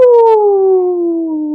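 A voice imitates an eerie siren with a long, sliding, wavering hoot that slowly falls in pitch, loud and close.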